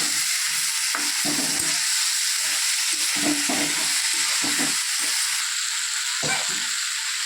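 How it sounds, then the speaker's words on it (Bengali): Potatoes fry in oil with browned onions, a continuous near sizzle under a run of rhythmic spatula scrapes and clacks as the pan is stirred, with no voices. "একটু নাড়িয়ে ভেজে ভাজার মতো করে নেব"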